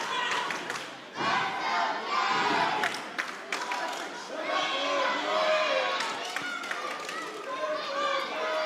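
Crowd noise at a pro wrestling event, with dense shouting, cheering and chanting spectators filling the hall continuously throughout.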